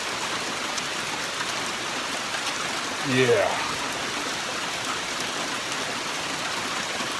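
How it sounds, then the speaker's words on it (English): Steady rain falls on a campsite during solo camping in North Carolina, a continuous broadband hiss throughout, with a brief spoken word partway through. "It's still raining pretty good."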